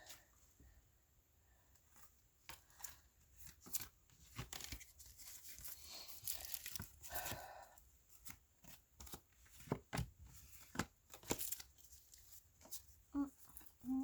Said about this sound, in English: So we're going to be moving on to group number 2s once I clear away these cards